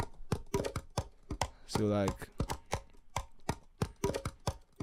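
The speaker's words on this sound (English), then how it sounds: "after that I added some percussions like this" Percussion added to a hip-hop beat: sharp, rapid clicking hits in a quick rhythm with a brief sustained tone in the middle, fairly close, and a voice speaks briefly.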